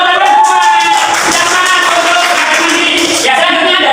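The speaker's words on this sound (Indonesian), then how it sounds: "Tepuk tangan." A burst of applause from a group in a classroom lesson, steady dense clapping that continues for several seconds, with a few voices mixed in.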